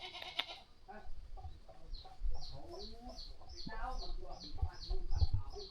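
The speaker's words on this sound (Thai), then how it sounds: "เลี้ยงแบะเลี้ยงแพะแล้วก็เลี้ยงงัวมาทางนี้เลี้ยงงัวเพิ่น" Goats bleat at a village farm near the Vietnam border, with a rooster or hen clucking in the mix; a string of short, repeated calls carries at moderate distance over faint background noise.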